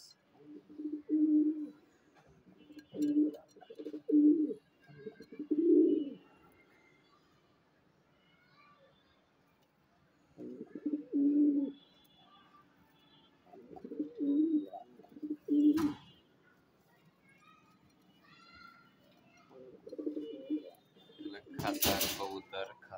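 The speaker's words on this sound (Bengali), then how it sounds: "জালালি কবুতর" Caged Jalali pigeons coo in low, rolling bursts, each lasting a second or two and repeating with pauses between them, close by and fairly soft, with a brief sharp knock near the end.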